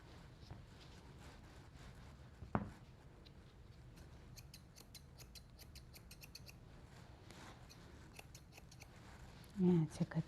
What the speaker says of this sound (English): there's a lot of technique in trimming feet